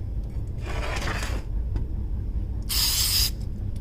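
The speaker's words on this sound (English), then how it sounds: "I'm going to spray the grate" Two short bursts of olive oil spray hiss onto a grill grate, the second louder and sharper, over a low background hum.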